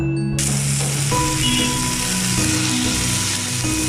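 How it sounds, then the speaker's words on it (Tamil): An egg dropped into frying onion and tomato for kothu chapathi, a sudden onset into a loud, steady sizzle held close for a few seconds alongside some faint tonal hum, no voices. "இப்போ நான் ஒரு எக் வச்சுருக்கேன், அதை சேர்த்துக்கிறேன்."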